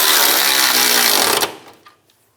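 A power tool with a 12mm socket runs steadily and loudly while snugging running board bolts on a 2007-2013 Chevrolet Silverado 1500, then cuts off abruptly, leaving a couple of faint clicks.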